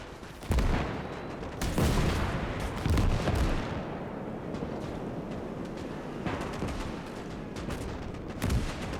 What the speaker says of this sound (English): Oh, lots of artillery. Rocket artillery and whatnot.